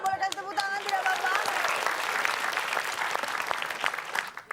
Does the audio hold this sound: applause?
yes